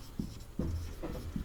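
Writing during a maths lesson on arithmetic progressions, a few soft strokes scratching at a slow, uneven pace, quiet and alone.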